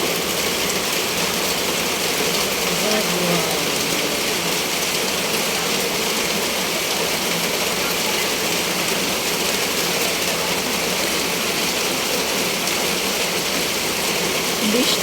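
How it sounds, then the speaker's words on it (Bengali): Heavy rain pours down steadily on a rainy afternoon film shoot, a dense, unbroken hiss that stays loud and even for the whole stretch, with no clear voices. "কি পরিমাণে বৃষ্টি দেখেন।"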